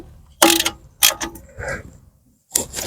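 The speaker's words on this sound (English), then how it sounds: "I'm putting this Allen key bolt back into the ABS sensor." An Allen key bolt being tightened into the ABS sensor on a BMW E92 3 Series during a front wheel bearing change: short, sharp metallic ratcheting bursts, close and distinct, with brief pauses between turns.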